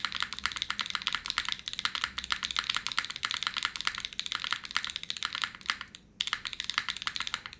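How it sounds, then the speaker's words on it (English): Continuous rapid clacking of a mechanical keyboard being typed on, close and crisp, with a brief pause near the end before the keystrokes resume. "let's see what the board sound"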